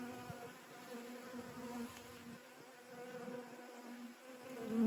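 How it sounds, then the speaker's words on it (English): Bees buzz steadily around a beehive, a soft continuous hum of many insects with no voices. "But at least in these, the bees aren't getting stuck"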